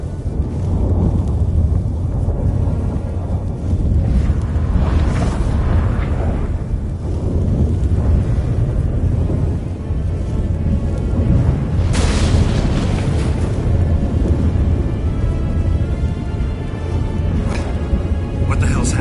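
Loud, rumbling storm with thunder in The Witcher 3, a dense continuous roar of low booms and wind with bursts around the middle, under game voices.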